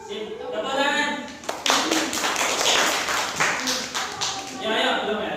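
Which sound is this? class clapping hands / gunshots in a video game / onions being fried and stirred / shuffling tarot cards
class clapping hands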